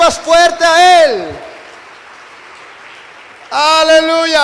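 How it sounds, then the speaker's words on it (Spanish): A church congregation applauds together in a steady wash of clapping that runs for about two seconds between stretches of a preacher's voice speaking loudly over the room. "Dele esa ofrenda de palmas fuerte a Él."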